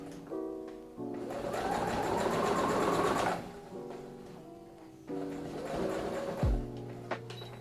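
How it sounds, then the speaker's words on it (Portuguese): A sewing machine stitches a safety seam on a stuffed plush toy in two fast whirring bursts, close and mechanical, with short pauses and a clack between them. "essa costurinha de segurança que a gente passa nas peças depois que enche"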